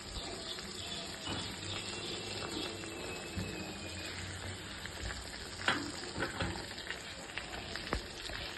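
Pointed gourd pieces sizzle in a pan as sour yogurt goes in. A steady, moderate crackling fry carries a few sharp clinks and scrapes of stirring, with no voices.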